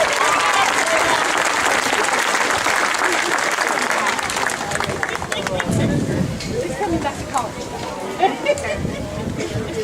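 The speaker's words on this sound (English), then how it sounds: "giving these amazing students another round of applause" An audience at a high school graduation ceremony in Porterville, California applauds the graduating students, with dense sustained clapping that gradually thins out, mixed with crowd murmur and scattered cheers.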